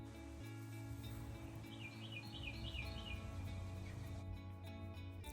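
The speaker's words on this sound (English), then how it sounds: "listen to the birds sing" In a backyard in the morning, a short run of faint, high bird chirps rises over a low steady hum, then fades away.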